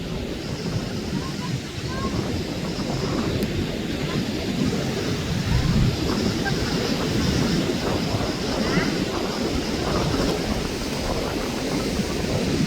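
Rough surf and breaking white waves where muddy brown typhoon floodwater meets the sea, a steady broadband roar with gusty wind buffeting the microphone throughout.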